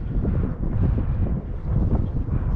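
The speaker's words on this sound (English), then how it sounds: "I'm still not out of the wind all the way yet" Strong wind buffets the microphone on a bass fishing boat in early spring in South Jersey, a loud, continuous low rumble with no speech.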